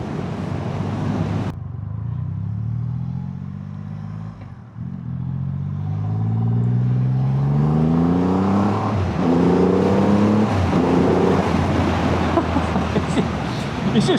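A Triumph Rocket 3 GT Storm motorcycle accelerates hard in road mode, its deep engine note rising through several gear changes in repeated upward sweeps, with wind rush building and a rider talking over it.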